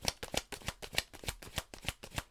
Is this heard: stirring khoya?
no